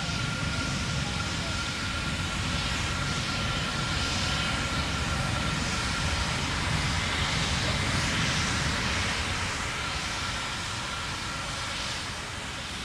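The Terran 1 3D-printed rocket's engines roar during ascent, a dense, steady, broadband rumble sustained throughout with little variation, heard from a distance.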